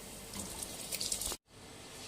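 Water poured from a vessel into a pot of rice for Pakistani white chicken pulao, a steady close splashing pour that stops abruptly, leaving a quieter low wash of settling liquid.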